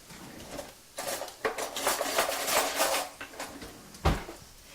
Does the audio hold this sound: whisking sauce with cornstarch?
yes